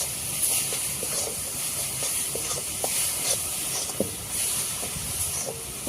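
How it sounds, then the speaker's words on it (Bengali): Jaggery fries with cardamom in a pan, giving a steady close sizzling hiss with small scattered pops and crackles throughout. "আর একটুখানি আমি এটাকে ভাজবো গুড়টাকে।"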